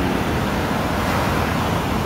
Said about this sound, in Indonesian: Sekarang kita sudah berada di Pantai Kuta, pantai yang terkenal di kota Bali.